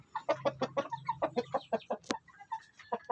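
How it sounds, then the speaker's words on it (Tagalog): A Shamo Asil cross rooster and hen cluck close by in a quick run of repeated short clucks, with a brief sharper squawk partway through and no talking. "So yan yung ating Belgian Shamu cross sa Shamu Asil flat comb."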